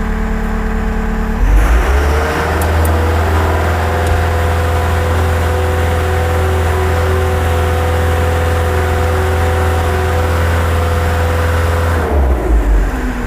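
A Wacker Neuson skid steer loader's engine revs up to maximum RPM and holds a loud, steady drone for about ten seconds, then winds back down to idle.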